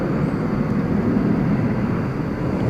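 A Qantas Boeing 787-9 Dreamliner bound for Sydney takes off at night at DFW Airport, its engines a loud, steady broadband roar with no voices over it.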